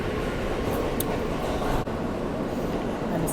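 A subway train rides along with a steady, loud rumble of wheels and car noise, with a few faint squeals and one brief clunk.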